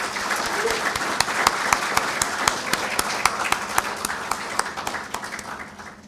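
Applause at a university convocation for the Faculty of Management, with a roomful of people clapping in a steady dense patter and a few sharper individual claps standing out, tapering off slightly at the end.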